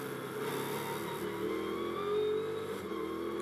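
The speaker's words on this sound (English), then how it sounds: "Back onto the power, drags the car out the other side of the tight right that loops back on itself" A Ginetta GT race car accelerating out of the tight Snetterton hairpin, its engine note climbing steadily through the revs at a distance, a rising whine carried over steady background noise.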